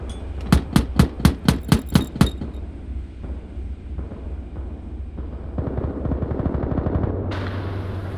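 A 12.7 mm machine gun mounted on a T-72 tank in the video game World War 3 fires a rapid burst of about eight loud, sharp shots, followed by a low rumbling engine and battlefield ambience.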